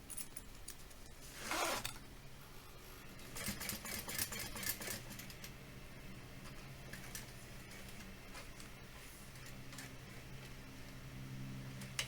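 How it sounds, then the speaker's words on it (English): A zipper is handled while a tote bag is sewn, giving a sharp zip near the start and later bursts of quick rasping and clicking over a quiet, steady background hum, with no voices. "The zipper."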